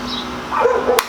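A dog barks a couple of quick times outdoors, short yelping sounds at moderate distance.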